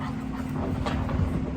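Pet dogs whimper and whine with excitement indoors, a brief nearby burst of high, restless cries over a low steady hum.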